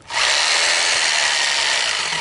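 A hammer drill fitted with a half-inch masonry bit bores an anchor hole for a pool slide deck, a steady, loud, gritty grinding whir that starts abruptly and runs continuously without talk.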